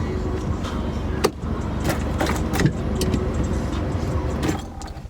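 A car drives along with a steady, loud road and engine rumble inside the cabin, broken by a few sharp clicks and knocks; no one talks.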